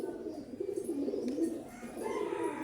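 A male pigeon coos close by: a low, rolling, throaty call repeated in a few quick waves, fairly soft and with no speech over it.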